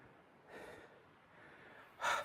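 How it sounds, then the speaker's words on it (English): Faint, heavy breaths after a steep hillside climb in Glencoe, Scotland, close to the microphone, two or three audible inhales and exhales, the last one a sharper, louder gasp. "Apologies for the heavy breathing,"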